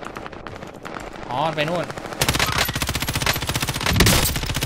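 Rapid bursts of M13 rifle fire in the shooter game Warzone Pacific, loud close automatic rattling that runs almost continuously through the second half, with a voice heard over it.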